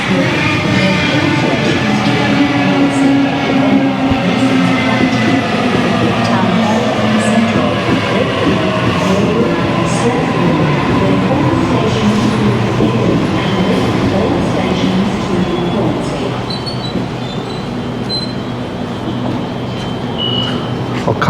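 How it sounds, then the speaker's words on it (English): A train passes Lindfield station in Sydney, a loud, continuous rumble and rolling rail noise with screeching wheel squeals, steady throughout and easing slightly near the end. "I just stop talking here while the train goes past."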